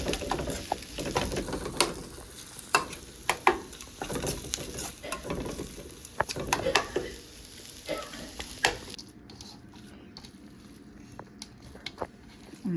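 Potato bonda filling is kneaded and mixed by hand with salt, making soft, irregular squishing and patting sounds close up, quieting toward the end.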